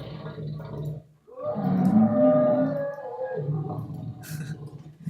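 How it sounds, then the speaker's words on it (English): A horse sample pitched several octaves down in a Kontakt sampler, turning into a deep, monstrous groaning roar that swells twice, loud and close, with no talking. "Immediately a horse suddenly starts sounding like some kind of monster."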